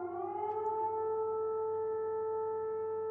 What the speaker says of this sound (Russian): Потому что сирена рядом слышна.